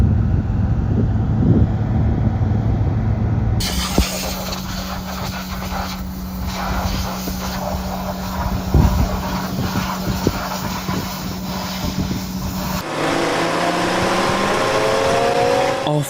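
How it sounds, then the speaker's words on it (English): A combine harvester on a Lincolnshire farm runs empty with its cleaning fan at full speed, a loud steady mechanical roar with a high whine and wind buffeting at the microphone, the sound shifting partway as the machine or mic moves. "Ruben's just running up with all the fan at full speed, just empty it out before he starts blowing it down"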